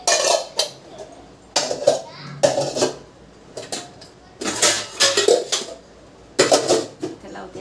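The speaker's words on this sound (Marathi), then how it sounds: "तर चला आता कालवण होतं तोपर्यंत मी भांडे आता मांडणीला लावून घेते." Metal cooking pots, a tea pan and utensils being stacked onto a kitchen rack, repeated clanks, clinks and scrapes of steel vessels in irregular bursts, close by, with someone talking in between.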